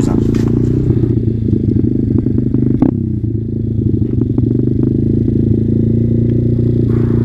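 Motorbike engine held at full throttle without the clutch, a loud steady close drone with clattering and a brief dip midway.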